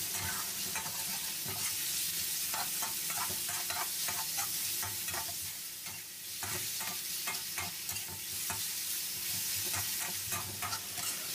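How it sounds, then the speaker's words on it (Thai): Steady sizzling of pork stir-frying in a hot pan, with repeated scraping and stirring strokes throughout, close and continuous, no voices. "จากนั้นเราก็ผัดให้หมูเราสุกเล"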